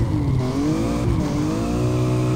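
In the driving game Peak Angle: Drift Online, a BMW drifts with a loud, steady engine drone and continuous tire squeal that swells and eases through a long corner, with no voices.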